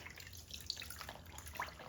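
Water drips and trickles faintly while gloves are hand washed in a sink, soft scattered drops and light splashes over a low, quiet background.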